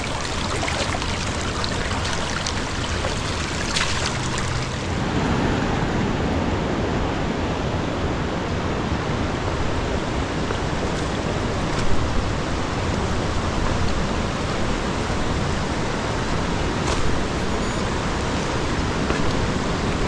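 A wilderness river rushes past a crossing in the Linville Gorge, a loud, continuous broadband roar of flowing water close by, steady throughout with no voices.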